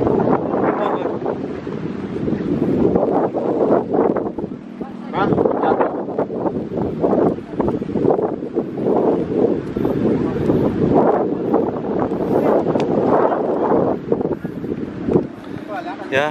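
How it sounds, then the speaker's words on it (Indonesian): Strong wind gusts buffet the microphone outdoors at a kite-flying event, surging and easing in uneven waves, with people talking now and then under the roar. "Ya, naik turun anginnya."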